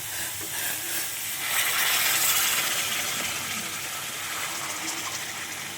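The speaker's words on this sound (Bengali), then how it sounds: "এখন আমি গরম জলটা দিয়ে দেবো" Hot water is poured into a cooking pan, a rushing gush that swells to its loudest midway and then settles into a softer, steady splash and hiss.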